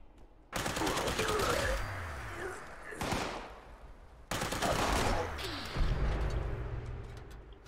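Tesla rifle firing in Fallout 76, two long bursts of crackling electric shots in rapid succession, loud and close, separated by a brief impact and a short pause, with faint game sounds around them.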